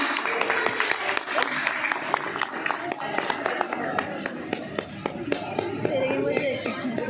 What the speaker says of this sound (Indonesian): Tepuk tangan buat beliau, Buya Haris dan Neng Kamila. Kita sambut dengan meriah